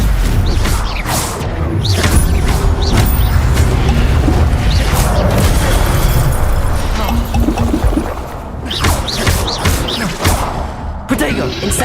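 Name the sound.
Stupefy spell cast in Hogwarts Legacy video game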